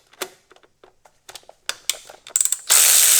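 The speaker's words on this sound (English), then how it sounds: "we're gonna take the 8mm socket and we're going to take this off" Socket wrench with an 8mm socket ratcheting bolts off a 2016 Honda F6B motorcycle, a run of quick, close clicks and small metal taps building to a louder, sustained burst at the end.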